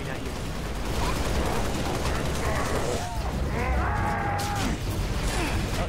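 Rapid gunfire bursts from the Halo Reach video game fill the clip in a dense, continuous clatter, with short electronic whines and a few sharper reports layered over the steady shooting.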